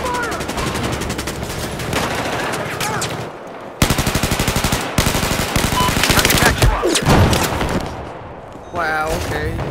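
Battlefield 4 gunfire, sustained machine-gun bursts and rapid shots rattling loud and close, with brief lulls and voices talking over the action.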